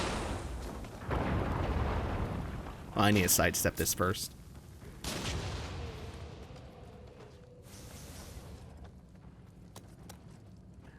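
Cannon fire in the video game Nioh 2, a cluster of loud booming blasts around the middle, then rumbling echoes and battle noise, with someone talking over the game.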